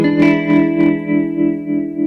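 An electric guitar plays through a Fender Mustang modeling amp on a clean twin reverb setting, a sustained ringing chord with a rich harmonic tone that swells and pulses slightly, loud and close with no talk.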